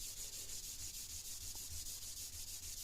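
A polishing pad rubs steadily along a metal rifle barrel during prep for cold bluing, with light thumb pressure giving a continuous, even hiss in soft repeated strokes, close and alone without talk.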